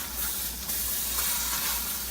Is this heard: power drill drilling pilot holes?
no